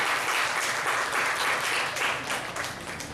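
Audience applause fills a lecture hall at an academic talk on Cebuano literature, a steady dense clapping wash that holds for about three seconds before tapering slightly at the end.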